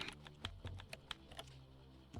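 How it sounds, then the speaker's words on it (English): Soft keyboard typing in the point-and-click game Kathy Rain, a quick run of light clicking keystrokes, faint and close with no talk. "Oh, typing sound is so loud."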